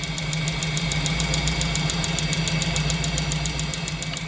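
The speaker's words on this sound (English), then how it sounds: "Had a pretty bad lifter tick, and here's some video that kind of shows how bad it was" Trans Am engine idling with a bad lifter tick, a fast, even metallic ticking riding over a steady low engine drone, loud and close throughout.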